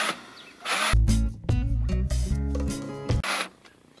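An oil feed drill bores into metal with a harsh grinding whir that rises, holds with rough pitch shifts for a few seconds, then cuts out.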